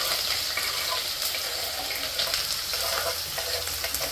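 Steady, close sizzling of finely chopped onion frying in a hot pan, a continuous crackle with small pops and no talking.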